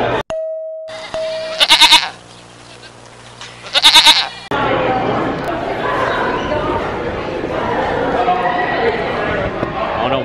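Goats bleat loudly in a school, two strained, wavering calls close by, followed by a noisy stretch with people talking.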